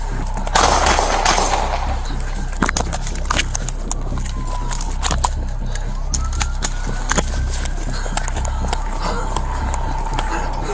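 Gunshots ring out during a police ambush that follows a vehicle crash in Fargo, several sharp loud cracks scattered through constant noisy background commotion and voices.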